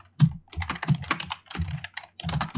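Arduino code typed on a computer keyboard in quick irregular bursts of clicky keystrokes, close and fairly loud, with short pauses between runs.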